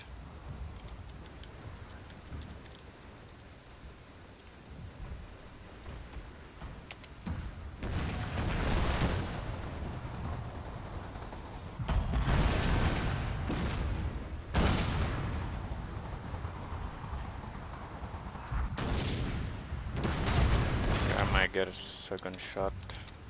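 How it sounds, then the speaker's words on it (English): Naval bombardment in the video game Total War Shogun 2, a battle scene with repeated heavy booms and bursts of artillery fire that swell in clusters over a continuous din, with a voice talking at times. "naval bombardment is killing all of them"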